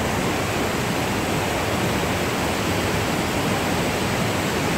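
A small river tumbling from above into a waterfall, a steady dense roar of rushing water filling the whole clip at close range, with no voices.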